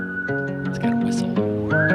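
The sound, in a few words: whistle in the played song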